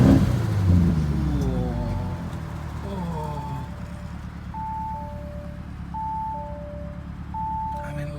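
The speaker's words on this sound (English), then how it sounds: "let's start the car" Lamborghini Urus with a Mansory kit rumbling loudly up close after starting, a steady low engine drone with revving swells, joined by repeated chime tones from the cabin.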